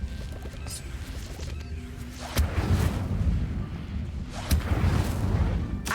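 An Incendio fire spell cast in Hogwarts Legacy bursts out twice over steady game ambience, each a sudden whooshing, rumbling blast that swells and lingers.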